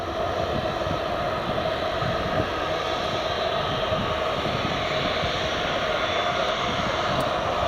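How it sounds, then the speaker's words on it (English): Ryanair jet airliner at Newcastle Airport, a steady loud broadband engine roar heard from a distance, unbroken throughout. "here goes the Ryanair"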